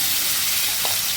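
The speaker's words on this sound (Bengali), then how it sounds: "তো এখানে আমার তেলটা গরম হয়ে গেছে, দিয়ে দেবো খারকোল পাতা বাটাটা।" Kharkol leaf paste hitting hot mustard oil gives a steady, close, bright sizzling hiss that carries evenly through the short moment.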